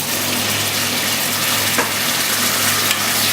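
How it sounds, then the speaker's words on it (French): A sausage and chayote rougail sauce with water cooking in a pan, a steady loud sizzle and bubbling close up with a faint stir or two. "Donc maintenant on va cuire la préparation pendant 10 minutes"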